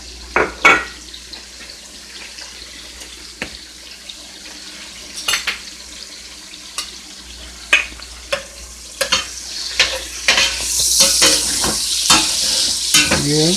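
Food frying in a pan while cabbage is cooked, a quiet sizzle broken by sharp clatters and stirring knocks, swelling into a louder hiss toward the end.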